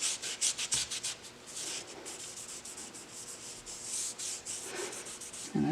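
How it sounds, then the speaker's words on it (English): An abrasive pad scrubs rust off the vise of a K&T milling machine in steady back-and-forth strokes, producing a continuous close scratchy rasp with rhythmic pulses and no talking. "abrading both to remove the rust, and this seems to get around that"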